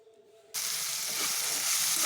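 Small pieces of green chilli hit 2-3 tablespoons of hot oil, and a loud, steady sizzle starts abruptly and holds without a break; no one speaks.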